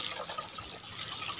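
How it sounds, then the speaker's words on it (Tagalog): Water poured over garden soil being readied for planting chayote, a steady soft trickle and splash that runs unbroken for the whole moment, close by with no talking. "Yan, diligan na natin."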